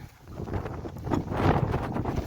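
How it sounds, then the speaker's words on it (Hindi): Strong gusts of wind in Saudi Arabia buffet the microphone in rough, roaring bursts that swell and fade over a couple of seconds. "आज सऊदी अरब में बहुत तेज हवा चल रही है"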